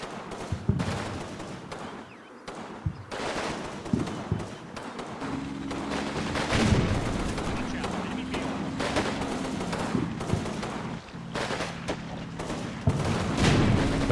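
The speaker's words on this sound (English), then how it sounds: "the top armored car in the distance there is putting too much 20mm cannon fire into the building." Sustained cannon and gunfire from a WWII battle in the Combat Mission Fortress Italy video game, with an armored car pouring 20mm cannon fire into a churchyard building; dense, continuous rumbling bursts and thuds throughout, with no talk.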